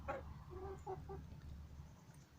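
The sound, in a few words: rare chickens clucking, silver Marans breed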